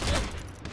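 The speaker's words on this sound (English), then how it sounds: "Stop shooting me, assholes." Rapid gunfire in a video game, a short burst of shots aimed at the player, heard briefly and moderately loud.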